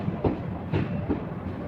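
Mettur Dam Express train pulling into Mettur Dam station, a low rumbling rolling sound with rhythmic wheel clicks over rail joints, heard steadily from onboard at a moderate level.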